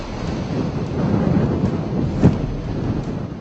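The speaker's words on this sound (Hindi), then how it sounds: "ओडिशा सहित आसपास के कई राज्यों में लगातार मूसलाधार बारिश हो रही है।" Heavy monsoon-style rain and thunder during Cyclone Phailin in Odisha, eastern India: a dense, steady roar of downpour with a low rumbling undertone and one sharper thunder crack near the middle, no voices.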